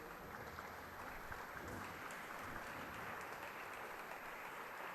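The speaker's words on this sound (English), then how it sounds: "Let us have a huge round of applause," An audience claps after a lecture in an endowment lecture series hall, a steady dense wash of applause lasting throughout, moderately distant and even in level, with no voices over it.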